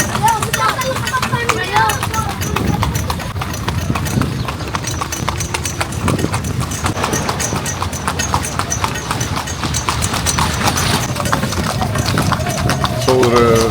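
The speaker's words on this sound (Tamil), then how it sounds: "ஸோ ஒரு சேரியட்டில் ஒரு குதிரை சவாரி எட்ஃபுங்கிற டெம்பிள்லேருந்து இப்போது நம்ம க்ரூஸ்க்கு போயிட்டுருக்கோம்" Hooves clip-clop in a steady, brisk rhythm as a horse pulls a chariot away from Edfu temple in Egypt, loud and close, with people talking over the clopping and street noise around.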